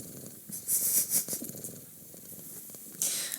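A cat purrs up close while rubbing against a microphone, giving a rough, low rumbling texture punctuated by loud brushing and rubbing noises.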